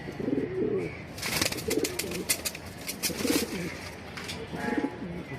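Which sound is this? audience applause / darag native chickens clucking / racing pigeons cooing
racing pigeons cooing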